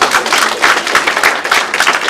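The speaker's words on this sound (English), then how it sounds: "A round of applause for her." Loud, dense applause from an audience at a book launch as a speaker comes to the stage, steady clapping with no talk over it.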